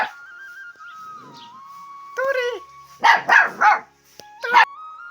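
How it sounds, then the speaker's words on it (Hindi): A dog playing with another animal lets out a quick burst of four loud, close barks, preceded by higher whiny yelps and a thin steady tone in the background. "देखो मित्रों हमारा कुत्ता यहाँ आ गया है,"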